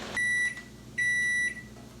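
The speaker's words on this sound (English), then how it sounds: "that sound means that it's done in the microwave" A microwave oven signals the end of its cycle with two loud, steady electronic beeps, each about a third of a second long and spaced apart, up close in a quiet kitchen with no talking.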